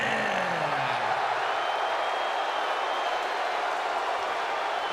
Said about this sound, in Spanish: Muchos aplauden.